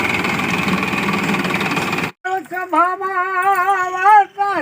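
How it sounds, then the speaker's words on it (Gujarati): A tractor engine starts up on a village farm for maize sowing, giving a loud, steady rumbling roar for about two seconds before cutting off abruptly, after which a voice is heard. "કલાભાઈ ચાલુ કરી દીધું ટ્રેક્ટર"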